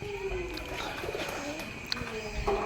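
Pigeons kept in a flying cage in a loft shed, soft cooing and fluttery calls over a busy background, with occasional voices nearby.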